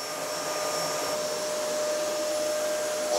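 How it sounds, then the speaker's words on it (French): A low-cost bagless vacuum cleaner runs as a steady, loud whine with airy broadband rush that holds unchanged for about three seconds, alone with no voices. "Deuxième aspirateur, le modèle low cost."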